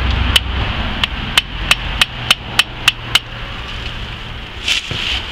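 A screwdriver is hammered into a cut in an established tree to spread it for top-work grafting, giving eight sharp, evenly spaced metallic taps, loud and close, followed by a softer rustle.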